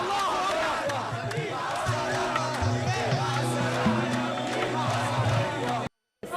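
A dense crowd fills a street during the 2011 unrest, with shouting, cheering and chants rising over a steady roar of many voices, and a low droning tone running beneath before it cuts out abruptly near the end.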